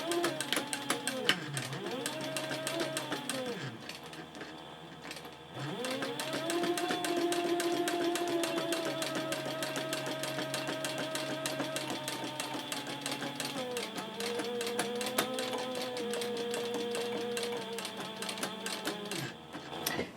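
A sewing machine stitches a handbag in two rows at a long stitch length, a steady close whirring hum that slows, pauses briefly and rises again in pitch between runs.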